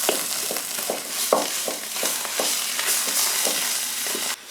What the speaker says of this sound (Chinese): 酸菜上的水分炒出个